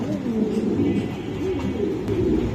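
Mundian Indigo pigeons coo in a low, steady murmur that runs through the whole stretch, with several birds overlapping at close range and no clear gaps.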